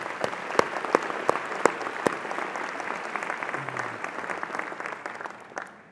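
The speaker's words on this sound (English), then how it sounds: "I think a round of applause for that." Applause from guests at the 2015 Catalyst Awards Dinner, a full room of steady clapping with a few loud close claps early on, then tapering away at the end.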